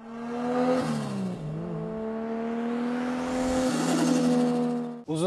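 Land Rover Defender 90 engine revs hard with rising and falling pitch sweeps, loud and close, ending with a sharp cutoff and a brief final burst.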